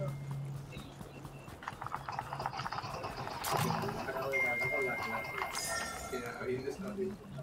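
Donkey hooves clip-clopping in the video game Fortnite, a rhythmic run of hoof clops rising through the middle amid game noise and chatter, with voices talking over it.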